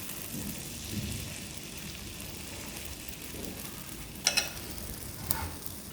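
Bun dosa fries in oil on a pan with a steady, close hiss of sizzling throughout, broken by a couple of faint clinks near the end.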